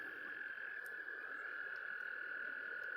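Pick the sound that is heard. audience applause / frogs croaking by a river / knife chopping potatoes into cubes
frogs croaking by a river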